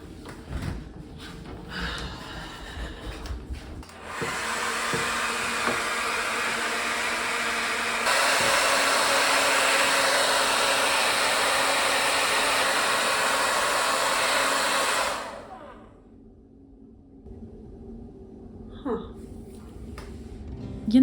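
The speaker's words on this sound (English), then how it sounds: "I did not wake up today and think I'm gonna use my hair blow dryer to clean my apartment today" A handheld hair blow dryer runs in an apartment to warm and loosen something stuck, roaring for about eleven seconds and stepping up to a higher setting midway before cutting off, with quiet handling noises before and after.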